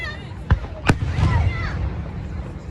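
Juneteenth fireworks burst outdoors in two sharp, loud bangs close together, followed by crackling and a rumbling tail with faint background voices.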